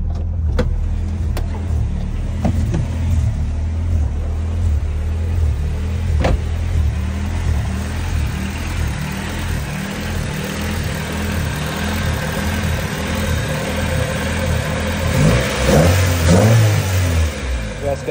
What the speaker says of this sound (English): You guys can hear the engine is pretty smooth